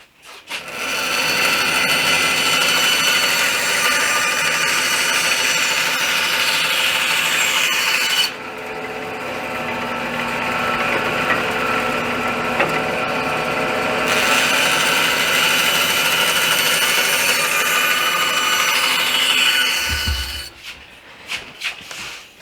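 Power tool cutting wooden pieces for a bench seat with hidden drawers, a loud steady buzzing grind running nearly the whole time with one brief dip in pitch midway, stopping near the end.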